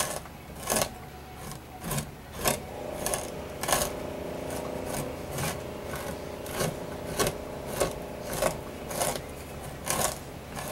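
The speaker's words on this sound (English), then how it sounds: "I might be able to just scrape it, push it off with the more duller side." A dull blade edge scrapes membrane from an otter pelt in repeated short rasping strokes, close and fairly quiet, with a steady rhythm of pushes.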